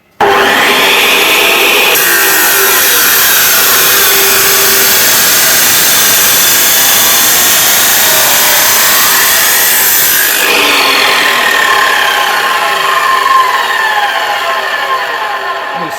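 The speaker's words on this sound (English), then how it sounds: "slight trouble with this chop saw. It won't quite go through 3" in one hit" A chop saw grinds through 3-inch exhaust pipe for a turbocharged Hayabusa engine kit, a loud, continuous abrasive roar lasting the whole stretch, with a shift in pitch partway through as the blade bites deeper.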